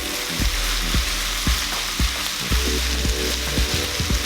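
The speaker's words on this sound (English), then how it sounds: "We will stir fry it till it's nice and caramelized." Garlic mushrooms stir-fried in a pan until caramelized: a loud, constant sizzle with regular scraping strokes of a spatula about twice a second, no voices.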